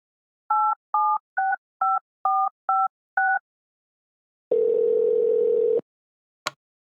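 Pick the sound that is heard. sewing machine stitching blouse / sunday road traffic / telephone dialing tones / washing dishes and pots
telephone dialing tones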